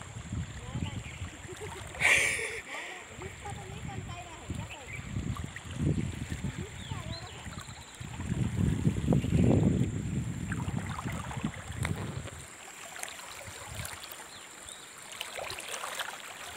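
Someone wades through waist-deep river water on the way to a farm field, with close splashing and sloshing, wind buffeting the microphone and a voice talking now and then.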